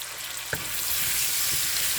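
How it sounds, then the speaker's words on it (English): Minced garlic sautés in a pan, a loud, close, continuous sizzle that swells after a brief clink, with soft stirring scrapes underneath. "So saute it until this will become slightly golden brown or translucent."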